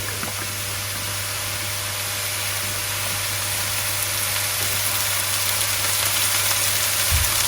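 Olive oil sizzles in a frying pan, a steady broadband hiss that grows slightly louder over the span, with a low steady hum beneath and no talking.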